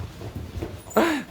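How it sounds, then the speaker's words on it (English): A dog lets out a single loud, rising whine near the end, close to the microphone, after a stretch of quiet background rumble. "this dog is crazy"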